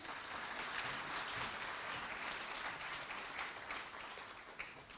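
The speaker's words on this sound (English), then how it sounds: "Can we have a huge round of applause for the artist, please?" An audience at an Indian community gathering in Moscow applauds an artist after a performance, a steady wash of many hands clapping, distant and fairly quiet, fading slightly near the end.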